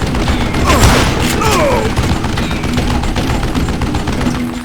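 Gunshots in the western shooter Call of Juarez Gunslinger crack out in a busy volley, several loud reports and ricochet-like whines early on, then a steadier scattered exchange of fire under a low hum, no clear talking.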